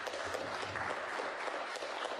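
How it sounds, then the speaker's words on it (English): Sporting applause at a snooker match as player Jamie Clarke claps, a steady, moderate patter of hands from the arena without pause. "Sportingly, Jamie Clarke claps."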